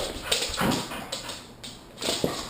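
A dog gives a few soft, high whimpers and whines close by, in short bursts with quiet pauses between.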